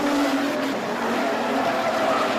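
Street stock race cars run on the clay speedway at Karratha, making a continuous loud roar of engines and tires with no break.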